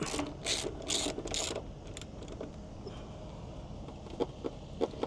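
A ratchet tightens a screw back in on a Rad Power RadRunner e-bike during a flat tire repair, giving a few quick, close bursts of clicking at the start and then fainter scattered clicks and taps.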